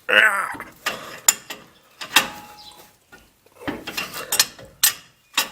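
A ratchet tightens the castle nut on a Ford F-250 ball joint, heard as sharp, close metallic clicks and clanks in irregular bursts with brief quiet gaps, loud and with no talking.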